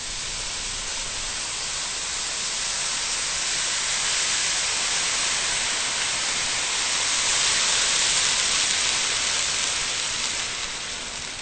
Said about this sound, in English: you can hear in the background I've got my kettle boiling